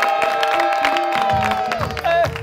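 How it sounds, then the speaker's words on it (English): Studio audience at a Thursday-night live talk show breaks into applause and cheering, a loud dense crowd wash with whoops, running steadily for a couple of seconds as music plays over it. "kindly put your hands together. Give an amazing round of applause"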